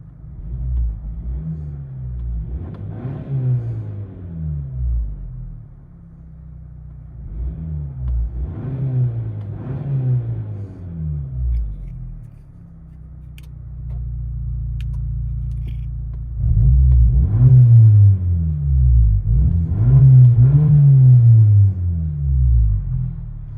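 Cabin view of a 2023 Hyundai Santa Cruz with a dual-valve exhaust cutout open: deep, loud exhaust rumble swelling in three repeated revs and accelerations, with a steady drone between them and no talking.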